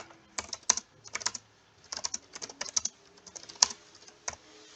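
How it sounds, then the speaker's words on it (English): Computer keyboard keys tapped in short bursts of several quick strokes, separated by brief pauses, close and clear with no voices. "You're going to type"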